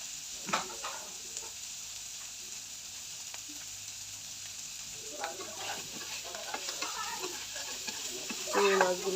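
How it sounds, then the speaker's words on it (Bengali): Shrimp sizzle steadily as they fry in a pan, a constant hiss with occasional stirring and turning sounds, louder toward the end. "এক পাশ ভাজা হয়ে গেছে, এখন আমি উল্টিয়ে দিব। আরেক পাশ ভালো করে ভেজে নিব।"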